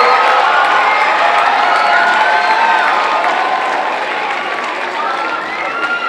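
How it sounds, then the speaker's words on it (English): A school academic awards evening fills with sustained applause and cheering for the families, a dense crowd roar with shouts and whistles that slowly eases off toward the end. "How about a big round of applause for your families for being here tonight to support you?"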